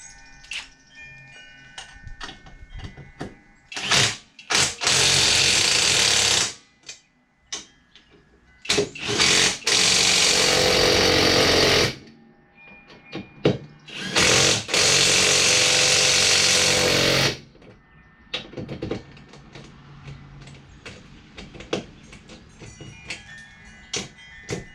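A power tool tightens a wheel spacer on a 2021 Polaris 570 ATV, firing in three loud whirring bursts of a few seconds each, with clicks and handling noises between them and no talking.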